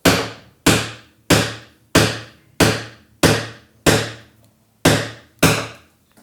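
A sharp chisel is whacked about nine times at an even rhythm, each strike a crisp, loud thwack with a quick decay, close up and with no voices.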